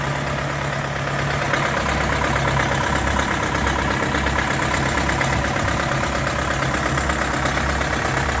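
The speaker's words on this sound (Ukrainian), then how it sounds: "робить чітко трактор" An Orion JD404 tractor with a cab runs at a steady idle, its diesel engine giving a continuous loud drone with a low rhythmic knock throughout, close by and with no talk.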